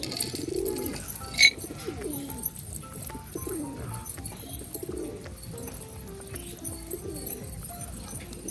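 Several pigeons coo in a low, rolling rhythm through the whole stretch, close and fairly soft, with a bright chirp near the start; rain falls over an outdoor pigeon loft where the birds gather for maize.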